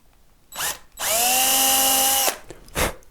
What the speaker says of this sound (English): drill it